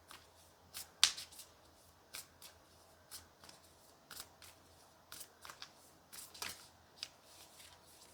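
Animal spirit cards are shuffled quietly, producing a series of soft, close riffling flicks and snaps at irregular intervals over a near-silent background.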